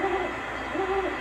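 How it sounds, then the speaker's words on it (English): Recorded hoots of a female great horned owl, two soft hollow calls at moderate distance against a faint noisy background. "this is what a typical female sounds like"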